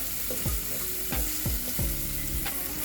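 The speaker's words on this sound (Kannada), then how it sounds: "ಚಂದಗೆ ಕಲರ್ ಬರೋ ಮಟ್ಟ ಫ್ರೈ ಮಾಡ್ರಿ." Onions frying in a pan for a Hesar Kal dish, with a steady close sizzle broken by several sharp scraping stirs at regular intervals, and no voices.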